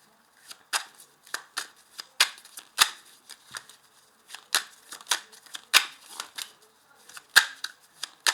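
Tarot cards being handled and laid down one after another in a reading, a run of crisp slapping and sliding card sounds in irregular quick bursts, close and clear with no talk.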